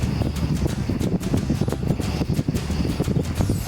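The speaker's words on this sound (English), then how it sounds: "some wind and it's cold" Steady, rough wind gusts buffet the microphone outdoors on a cold day by the Middle Provo river, a loud continuous low rumble with no talking.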